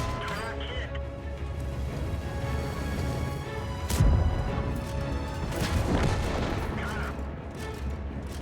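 Tank cannon fire and battle noise from World of Tanks, dense and steady with one heavy blast standing out, under voices in the background.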